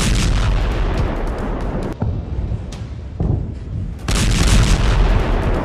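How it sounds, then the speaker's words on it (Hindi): Heavy booming bomb blasts and rolling rumbles in the Syrian civil war, loud and nearly continuous, with sharp cracks between a couple of brief lulls. "इनको ऐसे ऐसे बमों से लैस किया गया है जिनसे ऐसे धमाके हो रहे हैं।"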